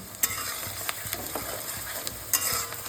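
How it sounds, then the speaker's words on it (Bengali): Chopped onions with a pinch of salt fry over a high flame for dhaniya chicken, giving a soft, even sizzle broken by a few sharp stirring scrapes and taps against the pan, with no speech. "দুই থেকে তিন মিনিট আমি হাই ফ্লেমে এই পেঁয়াজটাকে ভেজে নেব"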